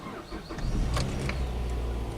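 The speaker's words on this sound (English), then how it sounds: "let us see if it fires up" A car engine cranks briefly and catches, then settles into a steady low idle close by, with no talking over it.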